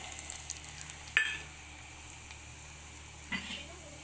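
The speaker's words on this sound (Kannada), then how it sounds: "ಕರಿಬೇವು ಹಾಕೋತೀನಿ ರೀ, ಬೆಳ್ಳುಳ್ಳಿ ಹಾಕೋತೀನಿ ರೀ, ಅರಿಶಿನ ಮತ್ತು ಖಾರ ಪುಡಿ ಹಾಕೋತೀನಿ ರೀ" Curry leaves, garlic, turmeric and chili powder sizzle in hot oil in a pan for buttermilk curry, a soft, fairly faint steady crackle with a couple of brief metallic clinks.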